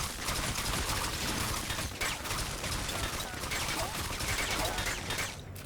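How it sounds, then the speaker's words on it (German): Dense, continuous gunfire in Ghost Recon Advanced Warfighter 2 crackles loudly throughout, rapid overlapping shots with a brief lull near the end. "Wer schießt denn da?"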